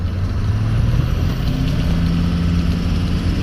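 A Ford 6.0 Powerstroke diesel truck engine while cruising, a loud, steady low rumble that continues unbroken throughout.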